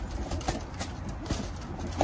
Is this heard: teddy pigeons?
yes